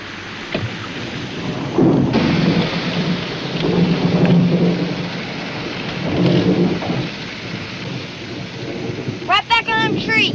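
A thunderstorm rolls in with rain, as long rumbles of thunder swell and fade over a steady wash of rainfall. A brief high warbling sound cuts in at the very end.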